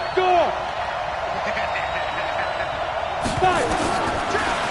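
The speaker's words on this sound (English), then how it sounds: "The crowd getting into it as we come up on a big 3rd down." A stadium crowd in a PS4 American football video game swells steadily and loudly on a big third down, with sharp impacts on top and a commentator talking over it.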